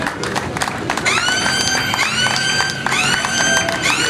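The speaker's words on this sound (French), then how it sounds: "On applaudit pour M. Elenga." Crowd applauding and cheering for Mr. Elenga at a ballot-box prize draw, a steady wash of clapping with whistles and shouts on top, fairly loud and continuous throughout.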